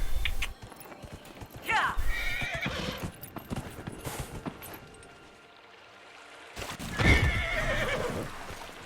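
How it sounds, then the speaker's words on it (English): A horse neighs twice in Dragon Age: Inquisition, a loud whinny early and another near the end, with hoof clip-clops and game sounds around it. "Let me summon a horse."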